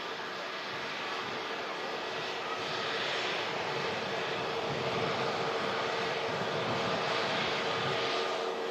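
A Virgin Atlantic A350 jet airliner taxies at Manchester Airport, its engines giving a steady, distant whine and roar that swells slightly toward the end.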